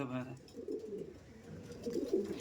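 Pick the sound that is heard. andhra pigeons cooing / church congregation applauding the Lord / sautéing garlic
andhra pigeons cooing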